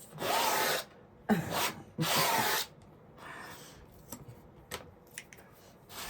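A palette knife scrapes wet oil paint off a 16x20 seascape canvas in three long rasping strokes, followed by several shorter, quieter scrapes and taps, close and with no talking.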